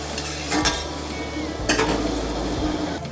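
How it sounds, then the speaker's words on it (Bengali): Sizzling and hissing bursts as a bowl of water hits masoor lentils frying in a hot pan, with a couple of metallic clinks and stirring scrapes, close and fairly loud. "এখন আমি দিয়ে দিব এক বাটি জল পরিমাণ মতো জল দিয়ে দেবেন"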